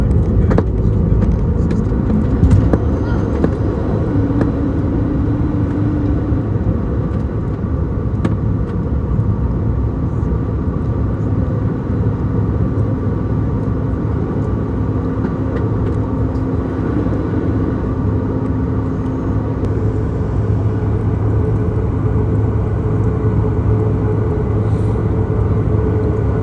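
Loud, steady drone of a tiny airplane's engine heard from inside the cabin, a constant low rumble with no break.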